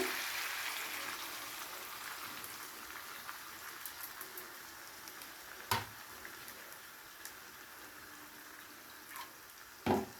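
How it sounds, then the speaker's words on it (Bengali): Water pours from a rinsed bowl into a dahi potol curry of pointed gourd in cashew-yogurt paste, a soft continuous splashing hiss that fades out, followed by a couple of faint knocks. "আর তার সঙ্গে বাটিটা ধুয়ে সামান্য জলও দিয়ে দিচ্ছি।"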